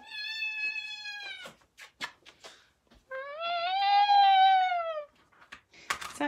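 A cat meows loudly and close by, with a long, drawn-out cry, then a second wailing meow, separated by soft rustling and small clicks. A brief noise bursts in at the end.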